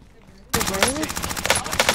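Gunfire in a shooter video game breaks out suddenly as rapid, dense automatic bursts, loud and close, with someone talking over the shooting.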